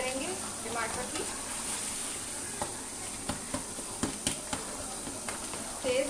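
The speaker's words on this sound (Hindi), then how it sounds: "अब इसको हम अच्छी तरह भूनेंगे कि टमाटर बिल्कुल मिक्स हो जाए।" Tomatoes frying for chicken karahi, stirred in a hot pan with a steady sizzle, and sharp spoon taps and scrapes that cluster toward the end, no voices.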